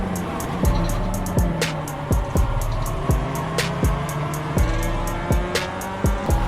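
Race cars in the iRacing sim, engines droning with repeated sharp upshift cuts and rising whines in a steady rhythm, a car holding close behind and another just ahead during an overtake.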